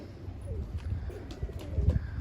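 A pigeon coos softly nearby under low outdoor background noise, with a brief fluttery burst near the end.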